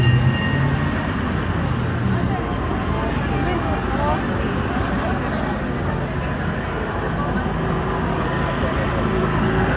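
A train rumbles past in a steady, continuous roar, loud and close throughout, with people talking faintly underneath the noise.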